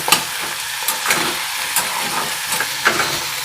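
Onion and tomato fry in oil with a loud, steady sizzle close by, punctuated by occasional light stirring clicks, no voices.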